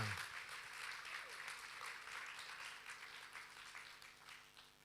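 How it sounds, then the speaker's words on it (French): A crowd applauding, a dense patter of clapping that stays steady and slowly fades, fairly quiet and distant. "on peut vraiment l'applaudir"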